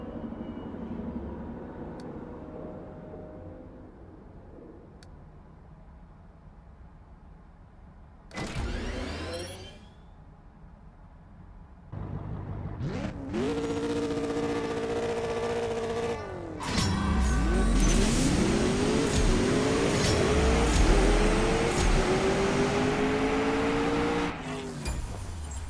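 Car engines from the CSR Racing 2 racing game: a quiet idle, a short rev burst, then loud revving and upshifting acceleration that builds and holds for the last ten seconds, heard alone without talk.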